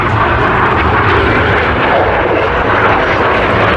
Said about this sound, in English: Each aircraft will form a barrel roll, passing the middle, wingtip to wingtip, only 30 metres, 100 feet, as they perform the circus.